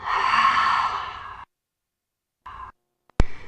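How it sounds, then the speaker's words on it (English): A single long mouth exhale during a vinyasa yoga breathing cue, lasting about a second and a half, followed by silence, a short second breath and a brief sharp click. "exhale through the mouth"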